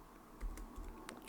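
Quiet typing on a computer keyboard, a short run of soft key clicks entering a pip install command in a terminal, close and faint.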